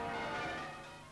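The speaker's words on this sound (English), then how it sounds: "it's church bells for the Queen Mother." Church bells pealing in celebration of the Queen Mother's 85th birthday, a dense, steady ringing that fills the whole moment and fades slightly toward the end.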